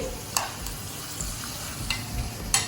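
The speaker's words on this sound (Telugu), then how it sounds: "జీడిపప్పు వేగిపోయాయి. ఇలా బ్రౌనిష్ వచ్చేంత వరకు వేయించుకోవాలి." Cashew nuts fry in oil in a pan for a tempering, giving a steady soft sizzle with a few sharp stirring clinks against the pan.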